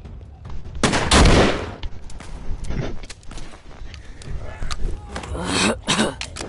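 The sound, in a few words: gunshots in a video game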